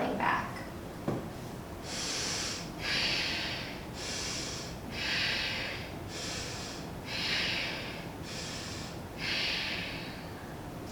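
Slow, deep breaths during a yoga class, with about eight rhythmic airy inhales and exhales heard close and clear, evenly paced with short pauses between them.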